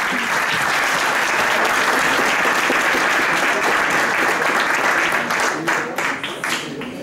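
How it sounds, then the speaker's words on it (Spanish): A panel audience at an electoral institute forum on re-election gives warm, loud sustained applause, a dense wash of clapping that holds steady and then thins into scattered claps near the end. "les pido un caluroso aplauso para el panel"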